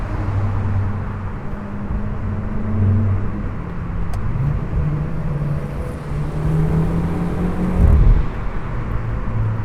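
Motorcycle engine running nearby with a deep, rumbling idle and a few rising revs, loud and continuous throughout.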